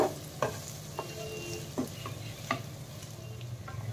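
Roasted ground spices are stirred into a potato curry frying in a pan: a steady low sizzle runs throughout, broken by a handful of sharp scraping strokes of the spoon against the pan, close and moderately loud.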